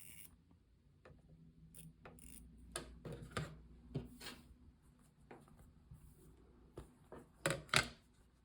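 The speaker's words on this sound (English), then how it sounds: "So I'm going to start my stitching." Sewing machine stitching fabric for a doll dress, giving quiet mechanical clicks and short whirring bursts in an irregular rhythm, close by, with brief louder runs near the end.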